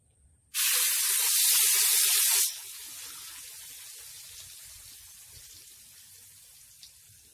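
A sudden loud hiss as blended spice paste hits hot oil, a bright sizzle for about two seconds, then settling into a softer, steady frying crackle.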